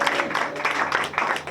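An audience at a Christian musician's anniversary celebration applauds, clapping coming in rhythmic bursts that rise and fall several times in quick succession, fairly close and with no talk over it.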